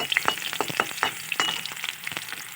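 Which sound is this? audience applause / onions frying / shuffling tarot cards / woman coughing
onions frying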